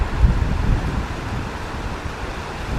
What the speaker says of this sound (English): The wind is blowing like something else.